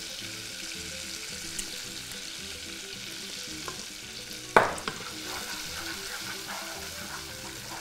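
Garlic and harissa fry in oil in a pan, a low continuous sizzle with soft stirring scrapes and one sharp clatter midway.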